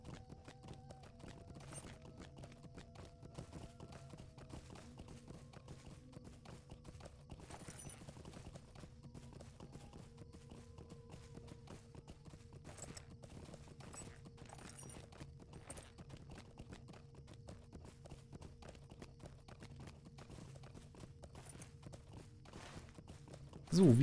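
Horse hooves clip-clopping in a steady, rapid rhythm as a mount rides cross-country through the online game Lord of the Rings Online, with a background music bed and faint talk.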